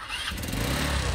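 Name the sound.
motorcycle engine running rough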